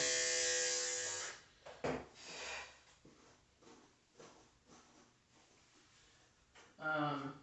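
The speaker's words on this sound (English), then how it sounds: "you were taking a clipper to their body" Electric clippers buzz during a full-service dog grooming, loud at first and then cutting out, with a short burst returning near the end.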